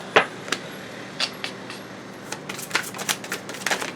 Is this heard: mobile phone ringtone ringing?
no